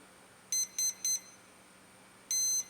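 A quadcopter's electronic speed controllers give their calibration tones: three short high beeps in quick succession, a pause, then one longer beep, clear and close over a quiet background.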